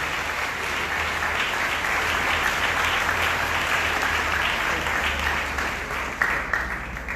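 A church congregation applauds their pastor, with steady crowd clapping that holds throughout and thins slightly near the end.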